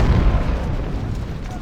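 Heavy booms of artillery fire in Ultimate General: Civil War at the First Battle of Bull Run, a loud rumbling blast that decays into low rolling echo, with a voice speaking over it.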